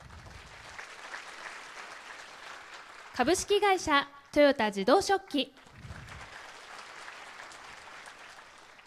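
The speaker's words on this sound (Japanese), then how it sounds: "会場の皆様大きな拍手をお願いいたします" An audience applauds during a soccer club's new-season team presentation in a hall, with steady applause at the start and end and a single announcer's voice speaking over a PA in the middle.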